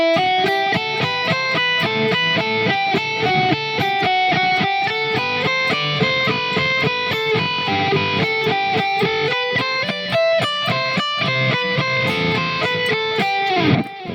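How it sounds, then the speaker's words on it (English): A dense, continuous run of melodic notes steps through a descending scale fragment pattern, played evenly and loudly for about fourteen seconds without any talking. "if I take it to the next scale fragment, it would sound like this"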